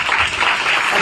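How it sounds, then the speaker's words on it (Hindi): A church congregation claps loudly in a brief, dense wash of applause with no pauses. "एक बार फिर से जोर से ताली बजाएं।"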